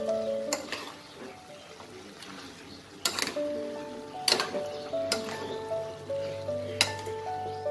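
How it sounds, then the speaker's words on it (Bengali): Fried chicken pieces for restaurant-style chilli chicken being stirred and mixed in a pan, with a few spaced metal-on-pan clinks and scrapes and a soft sizzle underneath steady tonal background music. "এটাকে ভালো করে মিশিয়ে নেব।"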